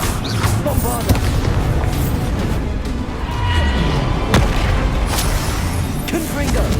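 Bombarda explosion spell booming in the Hogwarts Legacy video game, heavy blasts and sharp bangs layered over a dense, continuous din of combat effects and music.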